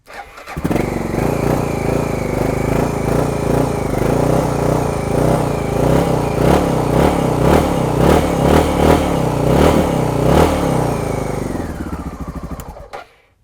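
An old sports car, parked since 1978, cranks and fires up, then runs loud and close with a steady throbbing idle and a few revs before cutting off at the end.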